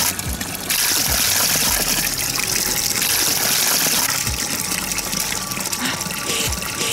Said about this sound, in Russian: Это родник?